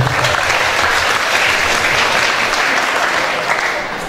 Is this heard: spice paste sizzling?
no